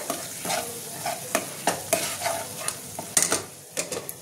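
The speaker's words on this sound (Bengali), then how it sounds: "এটা আমি একটুখানি কষিয়ে নেবো, বেশি কষাবো না, যেহেতু মশলাটা আমার ভাজা রয়েছে" Spice masala for a Bengali prawn malai curry being stirred and lightly fried in a pan, with scraping spatula strokes repeating every half second or so over a steady close sizzle.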